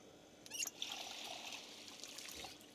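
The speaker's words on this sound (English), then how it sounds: "Top up my water bottle." A water bottle being filled in the video game Project Zomboid, a soft trickle and pour of water with a brief clinking splash at the start, steady and faint, without speech.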